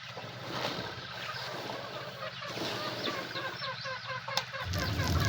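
Pet chickens cluck steadily at close range, with faint rhythmic scraping of corn being ground on a stone mill underneath.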